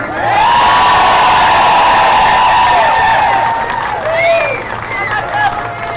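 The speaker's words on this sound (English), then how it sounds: "let's hear a big cheer for our children" A loud outdoor crowd at a 'No Kings' protest in Belton cheers and whoops for children, sustained and close, with shouted voices rising over the roar.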